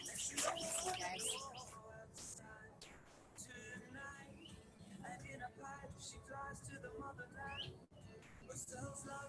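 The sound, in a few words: bird calls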